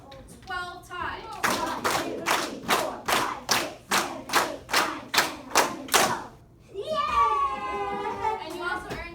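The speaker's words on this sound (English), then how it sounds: "Clap once, clap twice, clap 12 times." A classroom of children claps hands together in unison twelve times in a steady, even rhythm, with children's voices chattering just before and after the claps.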